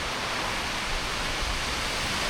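Heavy rain pouring down steadily outdoors at a bunker build site, a dense, loud, unbroken hiss with no voices.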